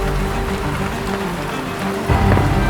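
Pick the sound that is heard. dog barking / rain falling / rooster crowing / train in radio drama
rain falling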